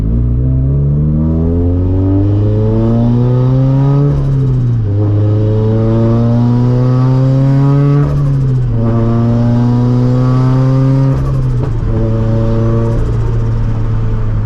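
A turbocharged Scion FR-S running about 10 psi of boost pulls hard through several gears, its loud exhaust note rising and dropping at each shift with crackling pops in between, close and continuous with no talk.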